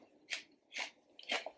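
Pickled onions are bitten and chewed straight from the jar, giving three crisp, close crunches spaced about half a second apart, with no talking.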